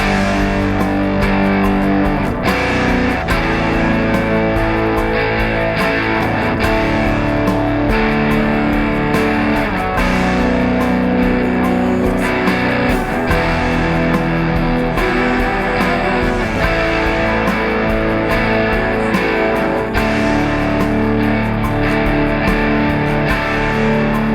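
Electric guitar played through a Tweed Stack Crunch amp simulation in a worship music production, a sustained distorted crunchy tone with steady chords ringing loud and continuous, no voice.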